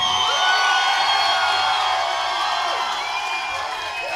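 A club crowd at a live rock show at L'Azile in Joliette cheers loudly, with whoops and whistles, in a sustained roar that eases slightly near the end.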